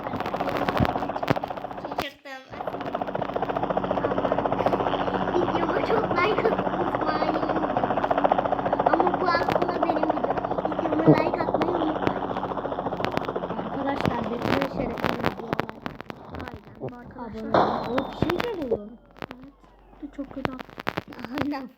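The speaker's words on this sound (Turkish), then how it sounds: "Ama az helikopterle giderim ya." A helicopter in a video game gives a steady, whirring rotor drone under continuous talking, with sharp game effects cutting in toward the end.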